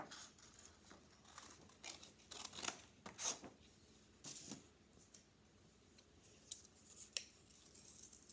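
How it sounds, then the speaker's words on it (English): Scissors snip through paper while squares are cut out for a pixel-art craft, a quiet, irregular series of crisp cuts and rustles close by. "Well, I am cutting out squares."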